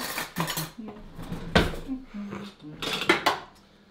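Metal spoons and kitchen utensils clinking and clattering together in a home kitchen while someone rummages for a spoon, with several sharp close knocks and brief voice sounds in between.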